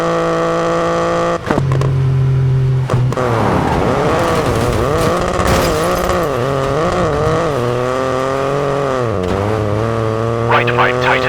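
A rally car in WRC 9 drives at speed, its engine revving up and down in rising and falling surges with gear changes and tyre noise, while a co-driver's voice calls pace notes over it.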